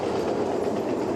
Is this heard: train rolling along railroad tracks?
yes